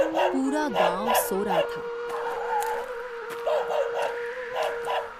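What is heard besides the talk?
dogs barking outside at night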